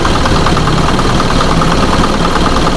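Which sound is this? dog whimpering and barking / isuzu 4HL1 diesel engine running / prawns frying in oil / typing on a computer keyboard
isuzu 4HL1 diesel engine running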